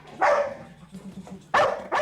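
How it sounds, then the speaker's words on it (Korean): A search and rescue dog barks in three loud, sharp bursts spaced across the moment, close by, with a low murmur between barks. "사람을 찾고 나서 그 자리에서 계속 짖고 있습니다"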